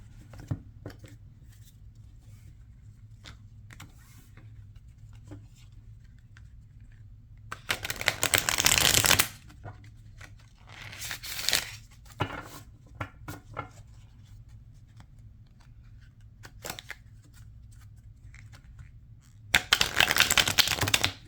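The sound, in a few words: riffle shuffling a Monstarot tarot deck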